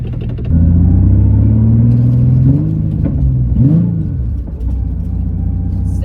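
A Nissan 350Z with its O2 sensors unplugged drives along, its engine droning with a rising pitch that surges and lurches unevenly in a couple of jerky hiccups, loud and close with no talk.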